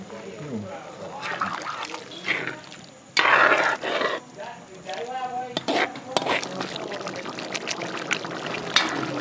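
Water poured into a pork stew of coconut milk, onion, tomato and ginger cooking in a pot outdoors, a short splashing burst amid kitchen clatter, with people talking around it.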